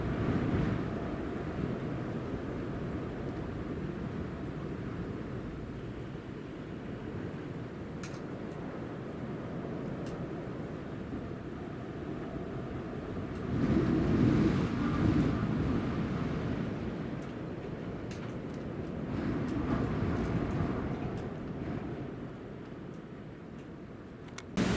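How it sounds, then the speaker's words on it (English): Strong wind from Storm Eunice buffeting a roof: a constant low roaring rush with gusts swelling midway and again later, steady throughout with no talk. "just to let you listen to the wind on the roof"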